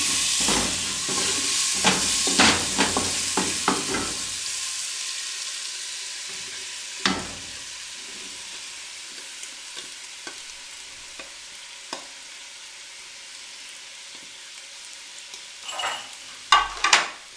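Boiled chicken being stir-fried in a pan, loud sizzling and stirring scrapes at first, then settling into a quieter steady hiss with occasional clinks and spatters.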